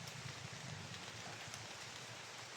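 Steady rain falls through a large stretch of forest, a soft, even hiss of drops on leaves and ground lasting throughout with no pauses and no voices.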